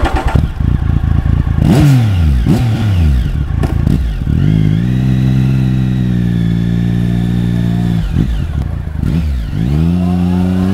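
A Triumph Speed Triple motorcycle at a Tokyo expressway rest stop at night revs loudly and close, then pulls away and accelerates hard through several gears, the engine note climbing, holding, and climbing again.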